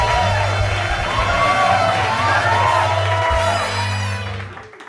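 Comedy show crowd cheering, whooping and clapping in a loud, dense burst that fades out at the end, with a low musical hum underneath.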